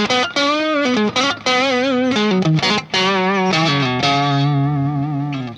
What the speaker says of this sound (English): you go to the 4th position, good for leads, it adds some of the bite back, you're just using the neck pickup